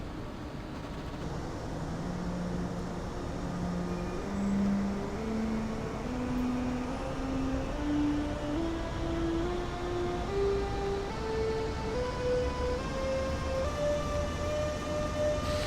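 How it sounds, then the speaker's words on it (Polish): ÖBB 1116 Taurus electric locomotive accelerating in Train Simulator Classic, its traction motors singing the rising stepped 'do re mi' scale, each tone climbing in pitch over a steady rolling rumble, clear and without talk. "Muzykalna lokomotywa, to tak zwane, tak charakterystycznie zwane do re mi w lokomotywie."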